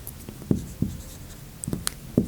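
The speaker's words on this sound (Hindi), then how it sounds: "इसके लिए जो हम लिखते हैं वो लिखते हैं" Chalk or marker strokes on a board during a biology lesson, a handful of short scratchy taps and strokes spaced unevenly, close and fairly clear with no talking.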